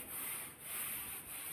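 Hand rubbed along a laminated wooden plank of a nesting dinghy gives a faint, soft swishing in gentle back-and-forth strokes, close and quiet with no talk.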